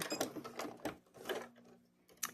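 A sewing machine backstitches through quilt binding in short, quiet bursts of rapid mechanical stitching separated by brief pauses, faint and close.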